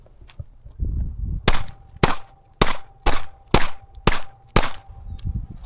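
Glock 43X MOS pistol fired at a shooting range, eight sharp close shots spaced roughly half a second apart, each a loud crack with a brief ringing tail, quiet rustling between them.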